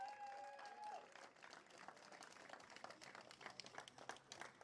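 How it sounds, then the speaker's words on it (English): A crowd at a Larkhall karting race applauds a podium finisher with steady, continuous clapping throughout, and a brief tonal voice is audible at the very start. "Please give a huge round of applause for his 2nd podium of the season"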